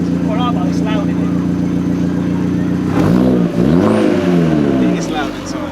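An Abarth's engine and exhaust drone loudly inside a cabin with no sound deadening, a steady low rumble that rises into a revving sweep midway, with people talking over it.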